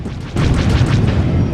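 Missiles fired from a Sledge mech in a mech combat video game explode with a loud, close boom that swells suddenly and rumbles on for about a second, with no talk over it.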